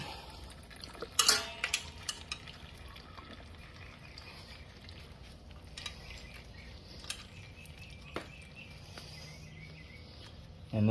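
Used engine oil drains from a Yamaha WR450F dirt bike as a faint, steady trickle, with a few sharp clinks and taps over the quiet stream.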